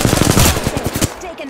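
Rapid automatic gunfire in the Apex Legends video game on PC, a loud close burst of shots that stops abruptly, followed by quieter game sounds.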